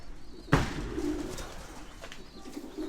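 A homing pigeon coos in a low, soft burst, close by and alone, with faint bird movement and a sharp knock near the start.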